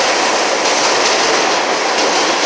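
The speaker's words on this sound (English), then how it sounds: "That's the train people take to go to City Field." Subway train of the line toward Citi Field rumbling loudly past an elevated station in Astoria, Queens, with a dense continuous roar and wheel noise close by.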